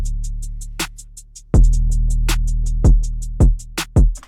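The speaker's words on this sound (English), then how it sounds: "I bring in the drums, so the snare, kick, hi-hat, another snare, 808, and that sounds like this" An isolated drum pattern of snare, kick, hi-hat and deep 808 bass, with crisp ticking hats, sharp snare cracks and booming sub-bass hits falling in a steady rhythm, loud and close with no voices.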